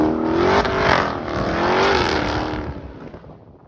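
A Dodge Hellcat slides sideways through a turn with its tires smoking, the engine revving hard and wavering in pitch as it holds the drift, then fading away toward the end.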